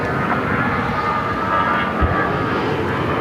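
An American Airlines airliner takes off from Phoenix airport, its engines giving a loud, steady roar close by that holds at a constant level the whole time without any voices.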